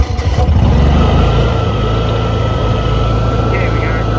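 A Honda EU6500 generator with a no-spark fault cranks and catches, then settles into a loud, steady engine hum heard up close.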